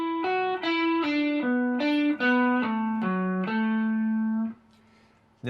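Electric guitar playing a smooth legato phrase of pull-offs across the strings, a steady run of connected notes with a slightly driven tone, ending on a held note that cuts off.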